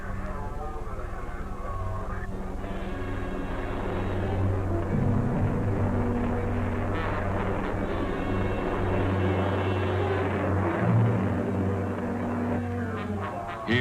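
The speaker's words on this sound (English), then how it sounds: "The second stage ignites." Steady, broad roar of a Pershing missile in flight after its second stage ignites, heard from a distance as a continuous rushing drone with a faint tonal hum running beneath it.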